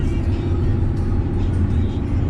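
Steady low road rumble inside a new 2022 RV cruising on a highway toward Oklahoma, a constant dense drone of engine and tire noise with no breaks, close and moderately loud throughout.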